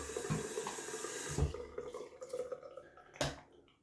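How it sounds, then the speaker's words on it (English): Shaving equipment rinsed under a running tap, a steady splashing water stream with a few sharper knocks and drips, close by and fairly quiet, no talking. "We're gonna just wash off some other equipments as well"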